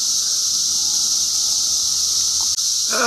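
Cicadas buzzing outdoors on a warm day, a loud continuous high drone that holds steady throughout, with a brief rustle and a short tonal sound near the end.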